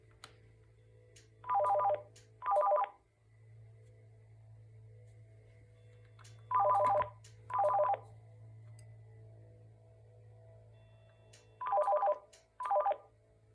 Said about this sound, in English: it was nice to just hear the ringer